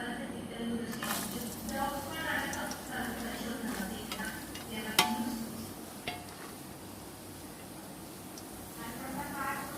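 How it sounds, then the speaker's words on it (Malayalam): Coconut pieces sizzle and crackle in a pan while being stirred, with occasional sharp clinks of a utensil, and a person talking throughout. "തേങ്ങാക്കൊത്ത് അതൊന്ന് വറുത്ത് ചുമന്ന് ബ്രൗൺ കളറായി വരുമ്പോഴത്തേക്കും"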